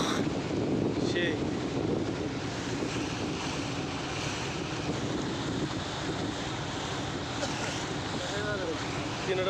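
Three trawler boats racing on open water, heard as a continuous roar of engines, rushing waves and heavy wind buffeting the microphone, steady and loud throughout.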